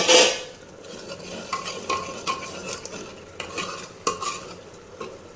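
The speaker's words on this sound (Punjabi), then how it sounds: "ਮਸਾਲਾ ਹਜੇ ਆਪਣਾ ਭੁੱਜੀ ਜਾਂਦਾ ਹੈਗਾ" A spoon stirs and scrapes masala with tomato and amchur powder roasting in oil, with a soft sizzle and repeated close metallic scrapes against the pan; no voices.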